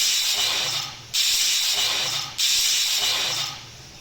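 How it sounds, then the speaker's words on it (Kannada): Pressure cooker whistling while moong dal cooks: loud, steady hissing steam blasts in repeated bursts, each cut off briefly before the next begins, with no voices. "ಈಗ ಕುಕ್ಕರ್ನ ಕ್ಲೋಸ್ ಮಾಡಿ 3ರಿಂದ 4 ವಿಷಲ್ ಕೂಗಿಸ್ಕೊಳ್ತಾ ಇದ್ದೀನಿ"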